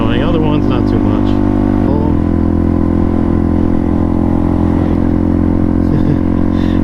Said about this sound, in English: They all just love the motorcycle.